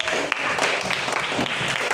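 Students in a classroom clap together, a dense burst of hand-claps filling the short stretch at a fairly loud, close level, without voices standing out over it.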